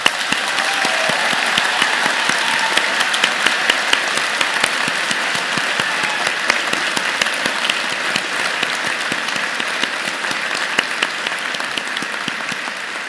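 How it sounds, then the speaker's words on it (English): Sustained, vigorous applause from a large convocation audience at a university spring graduation ceremony, dense and steady clapping filling the hall for the full stretch without a break. "applause."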